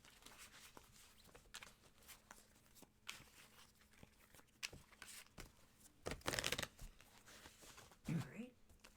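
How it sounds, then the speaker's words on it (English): Tarot cards being shuffled by hand at a table, a soft papery riffle and slide that comes in short bursts, with a louder flurry near the end, over a quiet room. "I'm going to give these a shuffle now."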